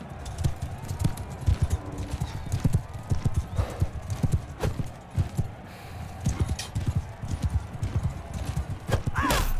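Horse hooves clip-clop in a rhythmic, close gallop during a battle in the video game Mount & Blade II Bannerlord, with an occasional whinny and background battle noise.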